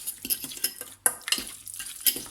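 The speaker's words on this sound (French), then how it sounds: "On va venir mélanger dans un premier temps." A spoon mixes a mustard marinade in a bowl with quick repeated scraping strokes and light clinks, close and fairly quiet, with a sharper knock near the middle.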